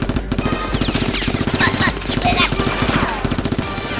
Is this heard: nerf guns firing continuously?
yes